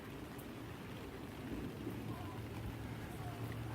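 Steady rain patters on a taut fabric surface close by, a dense, even hiss of drops with a low rumble underneath and no talking.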